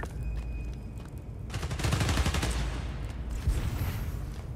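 Gunfire in Spider-Man: Miles Morales, a dense rattling volley from several enemy guns erupting after a quieter stretch and continuing loud and sustained, with scattered impacts and game ambience around it.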